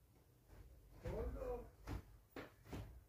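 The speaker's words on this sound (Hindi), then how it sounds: "दरवाजा में खोल रहा हूँ आप लोग देखे," A door is pulled open on a cold winter night, giving a few short knocks and thuds partway through while someone talks over it.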